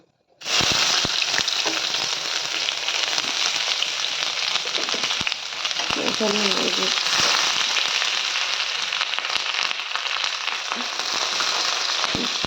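Onions fry in a hot pan with a dense, loud, continuous crackling sizzle that starts abruptly and carries on evenly, with occasional pops and a brief clatter of stirring partway through.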